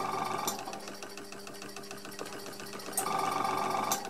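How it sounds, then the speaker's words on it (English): A Dereham Bowman M135 stationary engine from around 1928 runs steadily with an even, rapid mechanical beat and a smooth hum. A few sharper clanks stand out near the start and end, and no one speaks over it. "lovely smooth engine"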